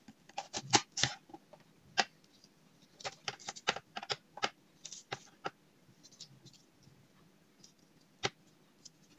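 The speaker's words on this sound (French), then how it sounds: "Et là, je coupe des petites lamelles." A knife slices an onion into thin strips on a board, a run of close, crisp taps in irregular bursts that thin out to single cuts.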